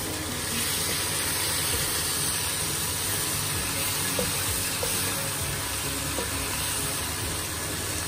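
Lime-marinated prawns going into a hot pot of chupe de camarones, giving a broad continuous sizzle and hiss that stays steady, with a few faint clinks and stirring knocks along the way.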